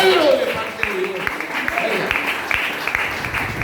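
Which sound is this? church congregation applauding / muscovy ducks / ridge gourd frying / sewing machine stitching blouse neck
church congregation applauding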